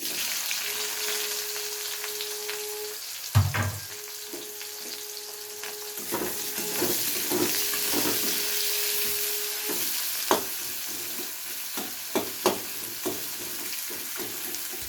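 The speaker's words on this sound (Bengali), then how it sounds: "ফোড়নটাকে হালকা নাড়াচাড়া করে নিয়ে দিয়ে দেবো এর মধ্যে পেঁয়াজ কুচি" Chopped onion hits hot oil tempered with cardamom, a cinnamon stick and a bay leaf, bursting into a loud sizzle, then a steady crackling fry broken by sharp stirring clatters, no voices.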